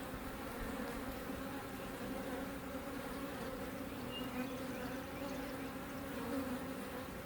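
Honeybees buzz steadily and closely around an open hive during an inspection, a dense continuous drone with no talking.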